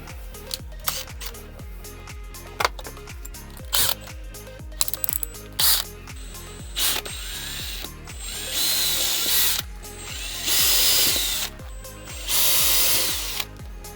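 Power drill boring screw holes through a paper template into a DIY camper van roof to mount a Dometic Freshwell 3000 air conditioner, heard as a series of short, loud whirring bursts with ratcheting clicks, growing longer toward the end.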